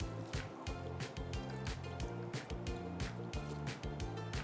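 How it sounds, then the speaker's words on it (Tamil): Soaked rice being tipped into a pot of boiling water for egg fried rice, giving a steady bubbling, splashing wash with rhythmic pulses throughout, close and fairly loud, with no talking. "ஸோ இந்த ஸ்டேஜில் நம்ம ஊற வச்சுருக்கிற அரிசியை நம்ம இதில் ஆட் பண்ணுவோம்."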